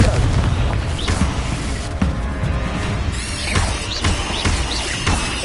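Confringo fire spell explosions in Hogwarts Legacy, with loud, heavy booms and crashing impacts over a constant low rumble of combat, while a voice is faintly present.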